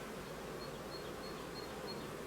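A May honeybee swarm crowded into an overfull hive gives off a dense, steady, close buzzing hum with no breaks.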